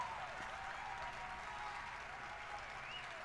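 An audience claps at the Microsoft E3 2019 presentation, a steady, faint wash of applause heard from a distance with no single claps standing out.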